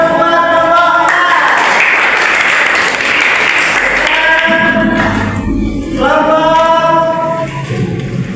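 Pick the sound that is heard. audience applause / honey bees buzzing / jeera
audience applause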